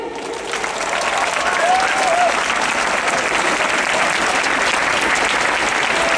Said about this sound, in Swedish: Jag vill introducera ljudteknikern och stor applåd, Oskar Söderlund!